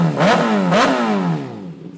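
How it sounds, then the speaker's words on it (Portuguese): A Fan 600R motorcycle that is not running quite right revs nearby in two quick, rising throttle blips. The engine note then falls back toward idle, loud and close, with no voices. "Pelo menos a moto ligou, mano, ó."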